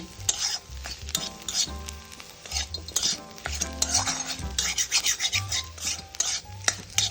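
Boiled potato and onion kachori filling fries in a pan with salt while a spoon scrapes and stirs it in repeated strokes. A steady sizzle sits under soft background music.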